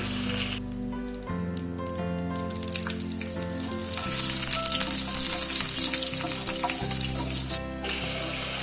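Mustard seeds and a green chili frying in hot coconut oil, a steady close sizzle that swells louder partway through, with no voices.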